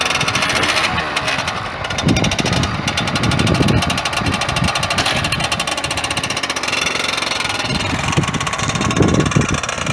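A motorcycle engine fires up and settles into a loud, close idle, a rapid rough pulsing with uneven throttle blips and a rattly, hammering edge that runs continuously.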